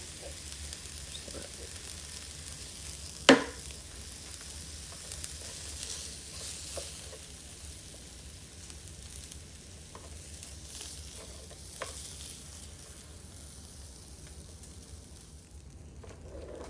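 Burger patties sizzle in a frying pan with a soft, even hiss, one sharp clack early on and a few lighter knocks later, with no voices over the frying.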